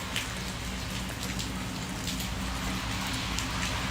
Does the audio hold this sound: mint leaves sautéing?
no